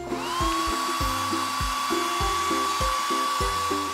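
A small toy hair dryer from a Barbie beauty salon playset whirs with a high buzzing whine, pulsing in a steady rapid rhythm, close and fairly loud with no voices.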